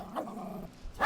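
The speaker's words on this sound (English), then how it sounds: "Okay, that's stray dog." A stray dog in a TV drama gives a short, close growl that rises into a sharp bark at the end, heard on its own without speech.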